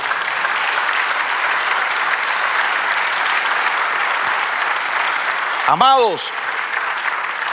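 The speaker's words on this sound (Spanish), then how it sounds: "Dale un aplauso al Señor" Church congregation applauding during a sermon, a steady dense wash of clapping throughout with a brief voice rising in pitch near the end.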